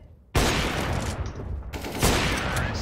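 An AWP sniper rifle no-scope shot in Counter-Strike: Global Offensive: a sudden loud crack followed by sustained dense game noise, then a second sharp blast near the end.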